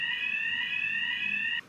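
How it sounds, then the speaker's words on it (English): A fire alarm sounds in a studio during a weekly Wednesday test, a steady piercing electronic tone held loud and unbroken for over a second before cutting off. "Wednesday's the fire alarm test"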